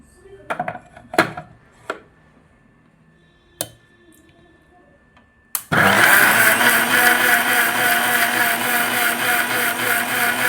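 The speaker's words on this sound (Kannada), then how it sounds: "ತುಂಬ ನೈಸಾಗಿ ರುಬ್ಬಬಾರ್ದು, ಸ್ವಲ್ಪ ತರಿ ತರಿ ರುಬ್ಬಬೇಕು." After a few clinks of kitchen utensils, an electric mixer grinder starts up abruptly and runs loud and continuous, coarsely grinding ingredients in a home kitchen.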